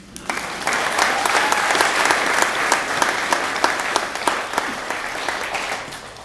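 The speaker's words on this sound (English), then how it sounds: "Please give yourselves all one more round of applause" An audience at a Boys & Girls Club donor night for the Berard Center claps together in sustained, dense applause, with sharp individual claps standing out, loud and continuous.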